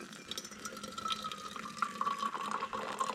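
Water pouring from a tap into a pot for pour-over coffee in a camper van, a faint continuous splashing and filling trickle with rising pitch as it fills.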